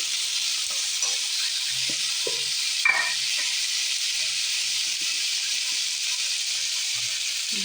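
Potatoes frying in a pan give a steady, even hiss of oil, with a few soft knocks and scrapes along the way, close and without any voices.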